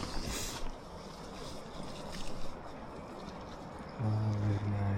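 Water flowing at a partly frozen waterfall outdoors, a steady broadband rush with wind buffeting the microphone, joined near the end by a low droning hum.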